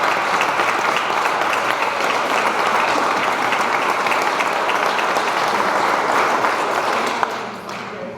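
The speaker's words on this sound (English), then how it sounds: "Clap for that." A crowd at the launch of a women's pro baseball league breaks into sustained loud applause with some cheering, steady throughout before tapering off at the end.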